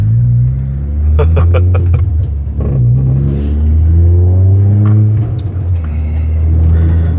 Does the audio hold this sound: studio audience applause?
no